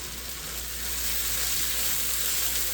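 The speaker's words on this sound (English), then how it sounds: "Give it a quick stir." Garlic and cabbage sizzling in a soup pot after a quick stir, a steady close hiss of frying that swells slightly louder partway through, with no voices.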